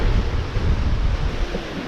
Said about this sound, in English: this is definitely what gusts in the 30s looks like